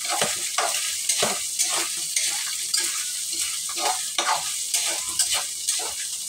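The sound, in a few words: sautéing hotdog with browned ground meat for spaghetti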